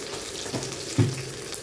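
Onions and curry leaves sauté in a pan for a chicken kulambu, giving a low, steady sizzle with a couple of brief clinks of a spoon against the pan up close.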